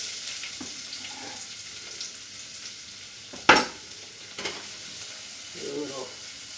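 Eggs and other ingredients fry in a pan while being stirred and tossed, giving a soft, quiet sizzle with one sharp clatter of the utensil against the pan partway through.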